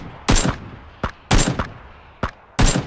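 Gunfire in a shooter video game: three loud, sharp bursts about a second apart, each trailed by a fainter single shot, crisp and close with no talking.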